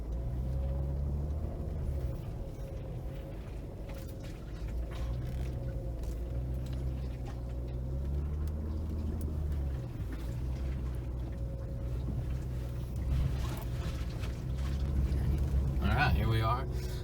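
A car climbs a rutted dirt road on Thomas Mountain: a steady low engine drone with creaks, rattles and bumps from the rough track, growing rougher near the end, while people talk over it.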